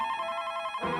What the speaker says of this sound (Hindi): जरा तुम फोन उठाना।